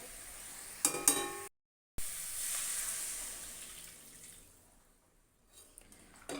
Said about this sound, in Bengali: এবার আমি দিয়ে দেবো পরিমাণ মতো জল।